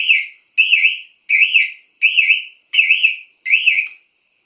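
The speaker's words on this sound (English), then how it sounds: "I wired quite an annoying buzzer to remind you" A deliberately annoying reminder buzzer wired to a motorcycle's LED turn signals sounds six loud, evenly spaced warbling beeps, each about half a second long, with nothing else audible.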